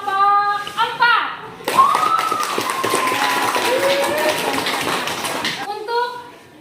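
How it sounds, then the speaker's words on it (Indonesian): Classroom students clap for a presenting group, a dense burst of hand claps from about two to five and a half seconds, with a voice and a teacher's speech before and after. "Kasih tepuk tangan untuk kelompok 4."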